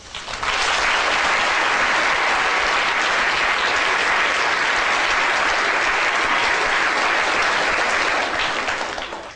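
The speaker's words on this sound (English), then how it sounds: "Applause for Neo." Sustained applause from a crowd, loud and steady throughout, rising at the start and tapering at the end.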